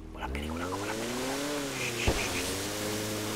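A car engine in GTA 5 Online hums steadily and rises in pitch as it speeds up, with a brief thump midway, continuous and fairly close.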